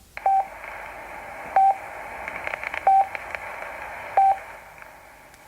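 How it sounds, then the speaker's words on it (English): Short electronic pips on a VHF marine radio sound at a regular beat of about one every 1.3 seconds over a faint hiss of radio static, signalling that the channel is engaged. "This is what the pips sound like."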